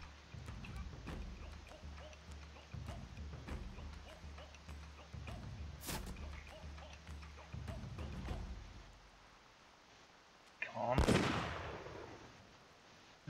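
Musket-style gunfire in the video game Mount and Blade Warband: a faint, busy battlefield with horse hooves clip-clopping and scattered pops gives way to one loud, sharp gun blast followed by a rolling echo near the end.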